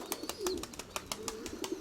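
Pigeons cooing softly amid a busy flutter of wingbeats and light clatter, close by, with no talking.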